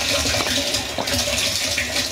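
Water from a household water motor pours steadily into a tank, a loud continuous gushing and splashing rush with no break over two seconds.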